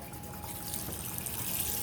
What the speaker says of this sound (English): Of course I gotta clean this up, so I'm rinsing these off, and of course we're gonna wash these again.